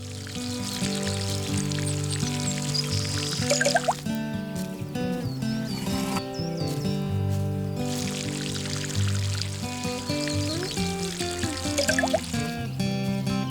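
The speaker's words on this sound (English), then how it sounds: "Let's water these bad boys." Plants are watered in the video game Garden Simulator, a steady pour of water splashing continuously over a bed of background music.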